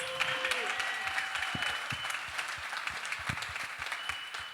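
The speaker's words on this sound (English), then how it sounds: "let's give another round of applause to our audience" Audience applause at a hospitality real estate event in Miami, a dense burst of clapping with a few louder individual claps standing out, with faint tones underneath.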